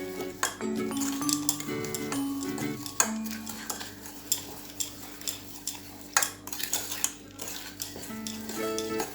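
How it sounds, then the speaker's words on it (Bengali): Stirring a cake batter in a bowl, with a series of irregular clinks, taps and scrapes of a utensil against the bowl rim over a quiet background, close and fairly soft. "এবার একটু নেড়ে চেড়ে নিচ্ছি।"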